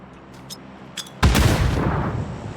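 A grenade detonates with a loud, close boom in the battle royale game PUBG. A few faint clicks come before the blast, and a rumbling tail follows it.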